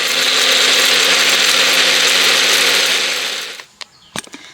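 An electric grinder pulverizes dried tomatoes into powder with a loud, dense whirring roar for about three and a half seconds. It then cuts off and winds down, followed by a few sharp clicks and clatters of the jar.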